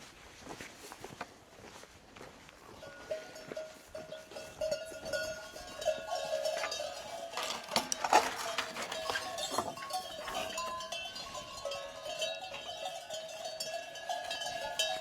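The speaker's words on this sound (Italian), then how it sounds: "ora vi porto a uscire le capre per andare al pascolo" Sicilian native goats being led out to pasture, their bells clanking and jangling steadily throughout with scattered bleats and shuffling hoof steps nearby, no talking.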